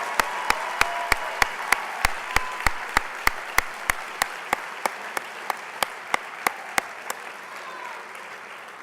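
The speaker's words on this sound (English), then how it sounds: "Give these wonderful, amazing people a round of applause." Applause for attendees at an honors award banquet, a sustained crowd clapping that stays steady and full, with sharp regular clicks running through it.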